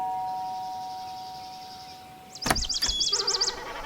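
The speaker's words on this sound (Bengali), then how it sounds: "ঠিক সেই সময় কলিং বেলটা বাজল।" A doorbell chime rings in a quiet indoor scene, a bright repeating ding-dong pattern starting sharply after a near-silent lead-in and continuing with several rapid chime notes, alone with no talking.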